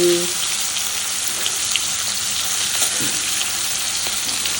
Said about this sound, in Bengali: এইবার কেটে ধুয়ে পরিষ্কার করে মাছ করছি ভাজা